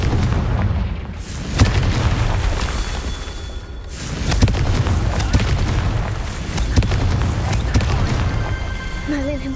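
Confringo fire-blast spell explosions in the video game Hogwarts Legacy thud and boom repeatedly over a rumbling game soundscape, loud and close, with a few sharp impacts.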